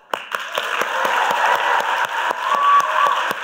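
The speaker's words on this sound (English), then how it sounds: "I invite you to give them another round of applause." Applause and cheering rise from a gala crowd at an Angelman syndrome summit, sustained clapping with a few whoops and faint voices mixed in, loud and steady across the room.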